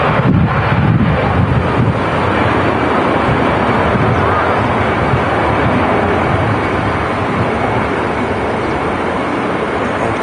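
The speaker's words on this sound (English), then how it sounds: "EasyJet 320, leaving 23 left." An EasyJet Airbus A320 takes off from runway 23 left at Manchester Airport, a loud, dense broadband engine roar holding steady throughout with wind buffeting the microphone.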